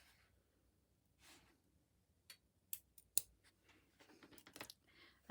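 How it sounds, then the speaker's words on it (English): Scissors snip into folded quilt fabric down to the seam, a few quiet separate clicks and cuts followed by a quick cluster of small snips, close and otherwise quiet. "now I'm just going to snip down to the seam"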